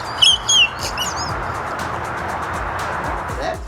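A boy imitating bird calls, with quick high chirping whistles in the opening second, then faint background noise and passing traffic.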